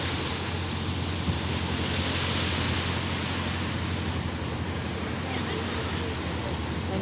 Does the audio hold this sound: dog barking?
no